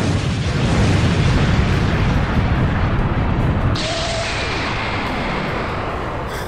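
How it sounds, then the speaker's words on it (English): An enormous explosion in a Dragon Ball animated movie: a loud, sustained, rumbling roar fills the whole clip, easing to a lower, steady rumble partway through. "Suddenly, Mato senses an enormous explosion."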